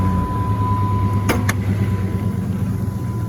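A 1996 Jeep Grand Cherokee ZJ engine cranks briefly, then settles into a steady idle heard up close, with a faint high whine running throughout.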